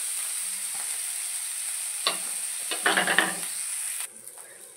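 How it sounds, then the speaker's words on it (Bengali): Cumin seeds with onion and garlic paste sizzling in hot oil for a brinjal dish, a steady frying hiss broken by brief bursts of louder crackle and stirring in the middle, with no talk. "জিরেটা ফোড়ন দিয়ে দেবো, পেঁয়াজ বাটা দিয়ে দেবো, রসুন বাটা দিয়ে দেবো"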